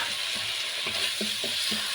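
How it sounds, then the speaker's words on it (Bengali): A spice paste with tomato ketchup sizzles and fries in a pan while being stirred, a steady hiss with soft, regular scraping strokes of the spoon, close up and without talk. "টমেটো কেচাপ দেওয়ার পরে আবারও আমি এইভাবে কিছুক্ষণ কষিয়ে নেব"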